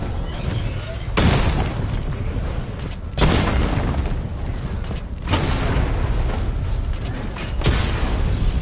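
Missile barrage explosions from a PS4 video game land as four heavy booms about two seconds apart, each a loud blast with a rumbling tail that fades before the next hit.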